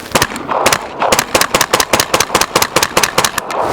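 A 9mm Sterling MK4 submachine gun fed from a polymer Sten magazine fires a long run of rapid, sharp outdoor shots, loud and close with an even rhythm and brief pauses between short bursts, no talking.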